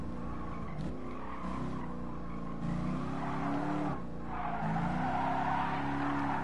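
A Corvette, a 1969 model, drifting on the Nürburgring Nordschleife in a racing game, with a sustained engine drone and repeated wavering tire squeals rising and falling, steady and fairly close.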